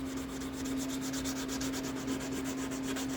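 Wet sanding a 3D-printed Mandalorian helmet by hand gives a steady, close rasping rub, repeated in quick regular strokes, over a constant low hum and with no one talking.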